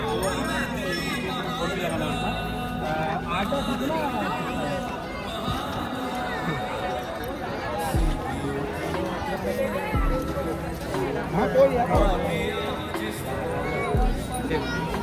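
A dense crowd murmurs at the Triveni Sangam ghat during the Mahakumbh, with a steady babble of many voices and occasional clinks around a nearby talker.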